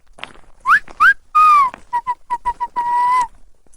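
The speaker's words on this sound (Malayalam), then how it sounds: "റബ്ബർ തോട്ടത്തിനരികിലെത്തിയപ്പോൾ ഒരു പ്രത്യേക രീതിയിൽ അയാൾ ചൂളം വിളിച്ചു." A person whistles a signal beside a rubber plantation at night, loud and close, with a few rising swoops, a long held note, then a run of short clipped toots ending in another sustained tone.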